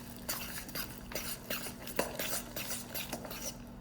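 Brownie batter is mixed by hand in a bowl, with a quick run of close, rhythmic utensil clinks and scrapes against the bowl's side.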